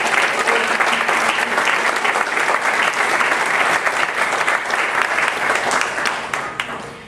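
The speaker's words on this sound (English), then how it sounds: "Would you give the Lord a hand clap of praise?" Church camp meeting congregation clapping hands in praise, a loud, dense, sustained round of applause that tapers slightly at the end.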